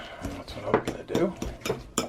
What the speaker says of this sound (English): he suggested mixing it with a fork